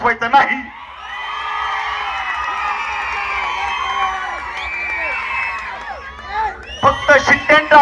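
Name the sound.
crowd whistling and clapping at a speech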